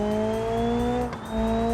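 An old Japanese street car's engine with nitrous oxide in the Car Jump Arena video game drones loud and close, a steady buzzing tone that climbs slightly in pitch, dips briefly, then holds, with no one talking.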